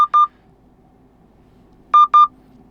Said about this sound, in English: then the phone will start to ring, just like this